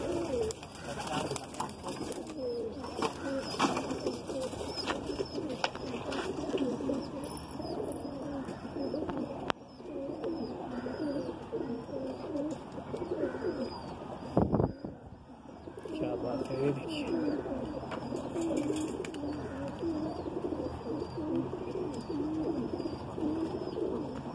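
Andhra-breed Madrasi pigeons, among them a male known as Totapari, coo repeatedly through a long stretch of flock noise with chirps and a steady background hiss.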